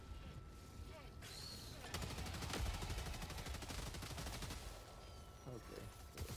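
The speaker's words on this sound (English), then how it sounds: "Gatling gun coming your way" Gatling gun fire in the video game Helldivers 2, a sustained rapid stream of shots lasting several seconds at close range, with game sounds before and after.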